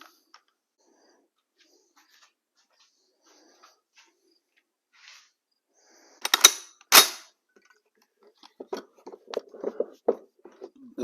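A US M1 Carbine rifle fires in two sharp, loud reports close together, followed by a cluster of fainter pops and rattles, with a quiet stretch beforehand.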